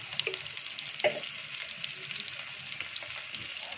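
Tomatoes and turmeric go into a hot sizzling pan, a continuous bright frying hiss with a couple of soft stirring knocks, fairly quiet and without voices.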